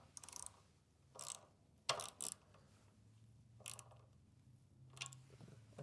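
A ratchet cranks in several short bursts of quick clicks while a fender eliminator is tightened on a Harley-Davidson Sportster S. The bursts are separated by quieter pauses, close by, with no talking.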